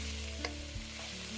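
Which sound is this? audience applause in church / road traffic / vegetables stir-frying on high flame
vegetables stir-frying on high flame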